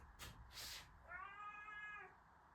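A house cat gives a single drawn-out meow, faint and somewhat distant, after a couple of soft rustling bumps in a quiet room.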